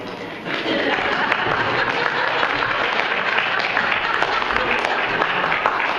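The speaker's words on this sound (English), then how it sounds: "Oh, that applause is so wrong." Audience applause fills a comedy set about dating, a dense, steady wash of clapping that starts just after the opening moment and carries on loudly to the end.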